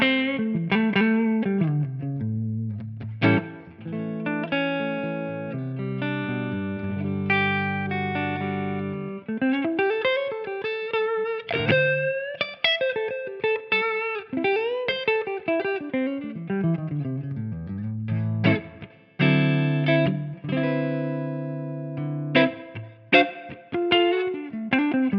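Clean electric guitar through a Soldano SLO amp tone on the neck pickup, warm and round, plays chords and single-note melodic lines, sustained notes ringing out between softer passages.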